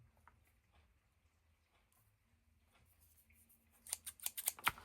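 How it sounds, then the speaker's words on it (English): Scissors with glue on the blades snip paper in a quick burst of several crisp, close cuts at the end, following soft handling rustles. "This has got glue on our scissors, and they will not cut when they have glue on them."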